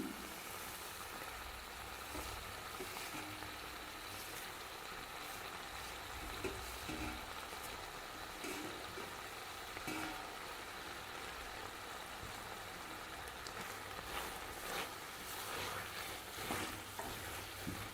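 Spinach wilting in a pan with tomatoes for a chutney, a faint continuous sizzle with occasional soft stirring scrapes, steady and unbroken throughout.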